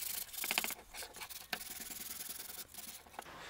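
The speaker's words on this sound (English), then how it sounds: "just a light hand sanding was all it needed" Hand sanding on a wooden saw handle, with quick back-and-forth scratchy strokes in bursts, then a steadier stretch of rubbing, close and fairly quiet.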